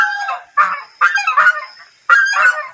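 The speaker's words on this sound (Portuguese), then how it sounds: "Ganso sinaleiro. Esse bicho é zangado." A signal goose honks outdoors in three loud, close, harsh bursts, each made of several rapid nasal calls with short silent gaps between them.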